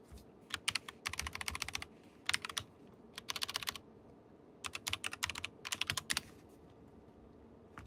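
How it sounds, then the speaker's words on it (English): Bursts of rapid computer keyboard typing, close and crisp, coming in quick clusters separated by short pauses over a quiet room background. "Sorry, now I'm just typing."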